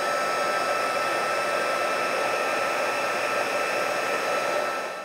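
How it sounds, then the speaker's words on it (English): Craft heat tool blowing hot air over a drying embellishment, a steady continuous whirring hiss, close and loud throughout. "you can use your heat tool to speed it along"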